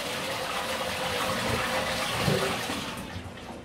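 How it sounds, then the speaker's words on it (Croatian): Water gushes steadily through freshly repaired household plumbing once the supply is turned back on, a continuous close rushing flow that tapers slightly at the end. "Pustit ćemo vodu."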